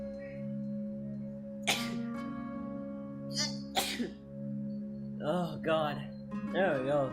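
Two sharp, close sneezes a couple of seconds apart over a low steady hum, followed by brief spoken words.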